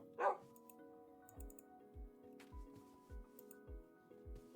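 Dogs in the video game TerraFirmaCraft give a single sharp bark near the start, followed by a regular series of soft thudding footsteps or squishy sounds over quiet game ambience.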